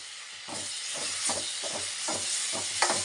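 Large tomatoes sautéing with masala in a pan for jackfruit gravy, a steady sizzle and hiss with rhythmic scraping strokes of a spatula stirring about once every half second, close up.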